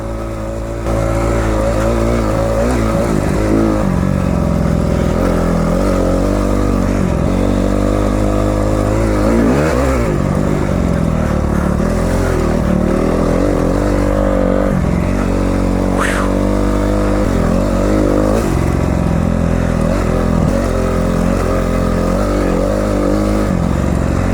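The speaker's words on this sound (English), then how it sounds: "I was loving the little CRF. I've never ridden a dedicated dirt bike before" Small Honda CRF dirt bike ridden on wooded off-road trails at an off-road resort, its engine loud and close throughout, rising and falling through repeated revs and gear changes.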